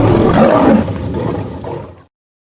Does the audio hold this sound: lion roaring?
yes